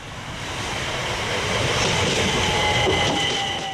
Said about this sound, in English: The Class 377 Electrostars are British built from the Bombardier factory in Derby.